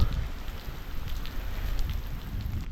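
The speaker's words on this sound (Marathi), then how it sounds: "खूप जबरदस्त असा पाऊस पडतो आहे" Heavy monsoon rain pours down at Kalanidhi Fort in Kolhapur, a dense, steady roar of close downpour that stays loud and unbroken throughout, with no voices.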